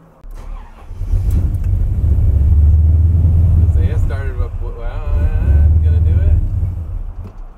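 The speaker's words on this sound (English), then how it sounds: "gotta give it some gas to keep it running otherwise." A 430-horsepower car engine, a cursed driveway-rescue build, idles roughly and gets steady throttle blips to keep it running, a loud close low rumble swelling and easing throughout while people talk over it.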